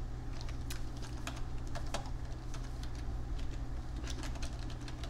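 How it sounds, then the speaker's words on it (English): Fingers tap quickly and unevenly on a computer keyboard, a close run of light clicks over a steady low hum, with no speech. "I'm going to type this in here."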